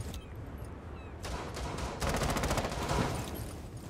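Gunfire in the video game Rainbow Six Siege, with rapid automatic bursts that start partway through and grow into a steady, fast rattle of shots over constant game background noise.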